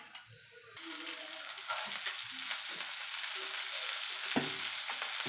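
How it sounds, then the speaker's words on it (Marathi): A vegetable sandwich fries in a pan, giving a steady, close hiss of sizzling that swells after a quiet opening second and holds throughout, broken by a few soft scraping stirs. "आता आपण ह्याला फ्राय करतो"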